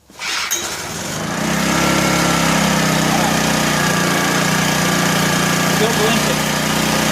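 A 1984 Honda EM600 generator's small engine catches after a quick start and settles into a loud, steady running drone close by, with no talking over it.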